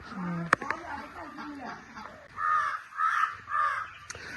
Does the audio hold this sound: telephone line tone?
no